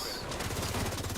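Rapid full-auto gunfire from computer-controlled enemies in The Division 2, a dense, continuous rattle of bursts that builds and stays loud and close throughout.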